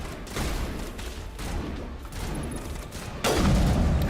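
Sniper rifle fire in the Mass Effect video game, several muffled shots and booms over a dense battle din, ending with a louder blast.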